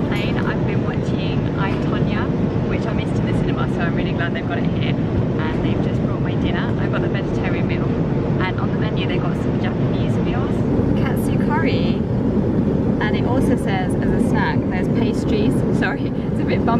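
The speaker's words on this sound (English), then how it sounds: "On the plane at the moment." In-flight cabin noise aboard a Lufthansa airliner flying from the UK to Japan: a loud, constant broadband roar throughout, with faint scattered background sounds over it.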